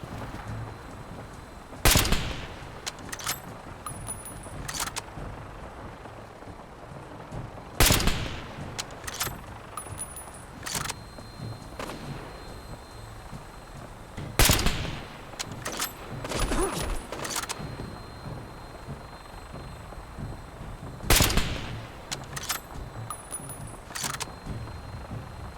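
Gunners opening fire on the player in Fallout 4: several loud, sharp bursts of gunfire spaced a few seconds apart over a low ambient background, with quieter clicks and metallic clinks between them.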